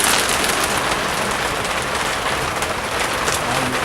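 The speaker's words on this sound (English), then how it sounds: "I can tell that it's lluvia pesada. Heavy rain." Heavy rain pours in a dense, steady hiss of countless drops striking surfaces, loud and unbroken throughout with no voices.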